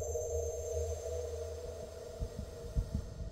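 A low, muffled heartbeat sound effect thumps rhythmically under a steady hum, the beats becoming more distinct toward the end.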